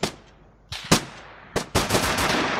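Bursts of gunfire in a military video game, several loud close shots and a sustained volley toward the end, with no talking.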